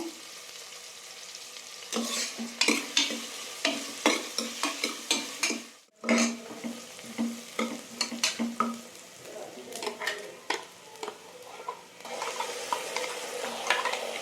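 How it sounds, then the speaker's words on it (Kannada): Onions fry in oil for mushroom biryani and are stirred until golden brown, giving a steady sizzle with repeated spatula scrapes and clanks against the pot. A short pause comes midway, with no talk. "ಸೊ ಇದು ಸ್ವಲ್ಪ ಗೋಲ್ಡನ್ ಬ್ರೌನ್ ಬರೋ ತನಕ ಹುರ್ಕೋಬೇಕು."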